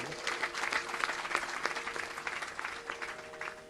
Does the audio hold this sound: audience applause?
yes